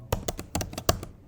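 Typing on a computer keyboard, a quick, close-up burst of about eight crisp key taps in an uneven rhythm, with no talk.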